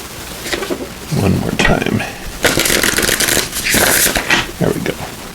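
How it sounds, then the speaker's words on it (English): A deck of tarot cards is given a quick shuffle, riffling and flicking in crisp bursts with short pauses between them, close up and fairly loud. "we're going to go ahead and give these a quick shuffle"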